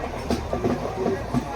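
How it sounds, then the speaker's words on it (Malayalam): A freight train loaded with JCB excavators rolls past on the next track, a rhythmic rumbling clatter of wagons heard close, with faint voices in the background. "ഗൈസ് അപ്പുറത്തെ ട്രെയിനിൽ കുറെ JCB കൊണ്ടുപോയിക്കൊണ്ടിരിക്കുന്നതാണ്"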